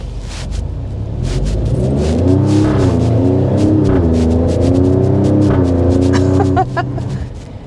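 A 2024 Alfa Romeo Stelvio Quadrifoglio engine accelerates, its loud, steady roar rising and falling in pitch through several gear changes, close and continuous with no talking.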